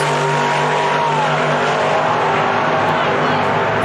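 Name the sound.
race car accelerating on a racetrack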